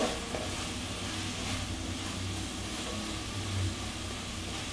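Apple pieces sizzle and crackle in hot oil in a pan while being stirred, a steady close frying hiss with some low clattering, no voices.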